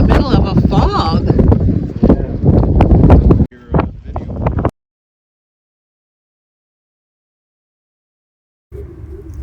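A strong desert windstorm blows sand near Quartzsite, heard as loud, buffeting wind roaring against the microphone along with a voice. The sound cuts to near silence partway through, then the wind returns briefly at the end.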